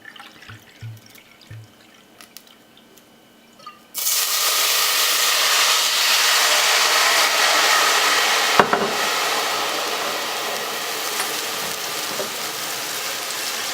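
Red wine poured into a hot pot roast pan, a sudden loud, steady sizzle and hiss that bursts in after a few quiet seconds and holds on with bubbling crackle.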